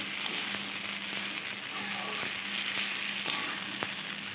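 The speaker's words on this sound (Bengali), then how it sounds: "আবারও আমি সবগুলো উপকরণ খুব ভালোভাবে একটু কষিয়ে নেব।" Fried potato and unripe jackfruit with cashews being stir-fried with spices in a pan, giving a steady, close sizzle throughout with a few faint clinks of a spoon.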